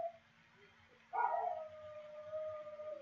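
A pet dog howls in a home, one long rising wail that swells suddenly and then holds a steady, fairly loud tone under faint background noise.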